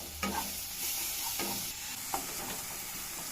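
Spice masala of coriander and Kashmiri chilli powder frying in oil in a pan, a steady close sizzle with a few scraping stirs of the spoon.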